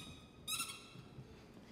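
A bassoon imitates the call of a northern lapwing at a lunchtime concert in the Théâtre du Châtelet, giving one short, bright, reedy note of about a third of a second over a soft, murky hall background.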